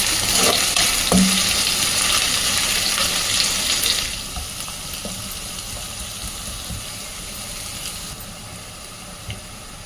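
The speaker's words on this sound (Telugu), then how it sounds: "రెండు పచ్చిమిరపకాయలు, కరివేపాకు 1 రెబ్బ. ఇది బాగా వేగనియాల." Green chilies and curry leaves frying in oil in a pan, a loud dense sizzle up close that eases to a quieter steady crackle about halfway through, with no voices.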